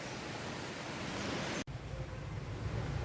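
Garud Chatti waterfall in a Rishikesh forest, a loud, constant roar of rushing water that is briefly broken by a sharp cut partway through before resuming.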